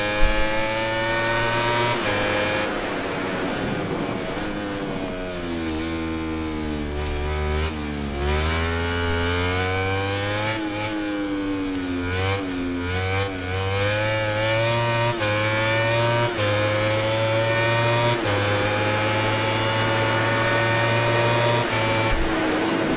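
Racing motorcycle engine in MotoGP 19 on track, a loud continuous high-revving whine that climbs and drops with gear shifts and throttle changes throughout, with no talking.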